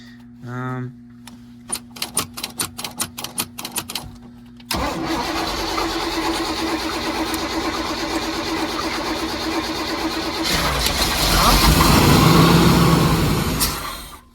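A 1983 Chevy Holiday V8 cranks in a rapid run of starter pulses, catches and idles steadily, then revs louder before dropping off, with people talking nearby.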